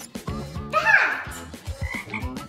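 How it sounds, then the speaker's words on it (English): A frog croaks in a series of short, raspy calls with a sharp rising squawk in the middle, close and loud. "Frog!"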